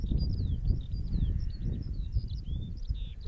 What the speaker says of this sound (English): Can you hear those birds? Listen, everyone.